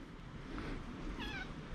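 A cat gives a short, wavering meow midway through, faint against a steady low background hum.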